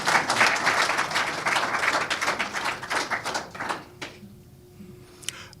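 Audience applause at a book launch for a Barbadian entrepreneur's tourism memoir, dense steady clapping that fades out after about four seconds, leaving a quiet room with a faint hum and a stray knock.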